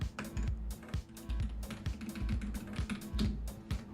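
Rapid, uneven clatter of fingers typing on a computer keyboard, close and fairly quiet, with no voices.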